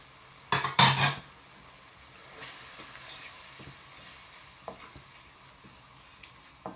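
Spice powders of turmeric, chilli, coriander, cumin and curry powder frying in a pan for a shrimp and bottle gourd curry, with a sharp burst of sizzling and stirring early on, then a quieter steady hiss and occasional scrapes.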